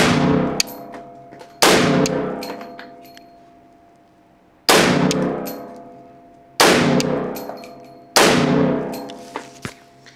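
Five loud gunshots from a .50 Beowulf pistol fitted with a tank brake, fired at uneven intervals, each a sharp close blast with a ringing metallic tail that fades over a second or two; no talk.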